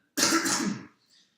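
A single harsh, close cough bursts out after a hit of a cannabis joint, dying off in about a second with a faint trailing breath.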